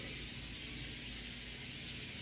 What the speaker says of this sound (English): we're going to want to spray this down